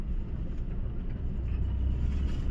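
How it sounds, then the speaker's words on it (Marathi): A car's engine rumbles low and steady during a driving lesson, vibrating as it picks up under light throttle, heard from inside the cabin with no one speaking. "तो व्हायब्रेट म्हणजे गाडी तिथं पिकअप घेते आपली."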